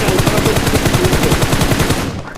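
Rapid automatic gunfire from the BGMI mobile battle royale game, a dense, loud stream of evenly spaced shots for about two seconds before cutting off, with no talk over it.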